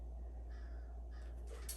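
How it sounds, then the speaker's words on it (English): A crow caws outside a window, a few faint, distant calls heard over steady low background hum, with no talking. "There's a crow right outside my window."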